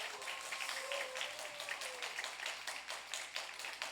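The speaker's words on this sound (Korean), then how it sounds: "여러분 먼저 박수 한번 하겠습니다" Steady applause from a gathered audience at a university student faith retreat, continuous dense clapping that holds at an even level for the whole stretch with no talk over it.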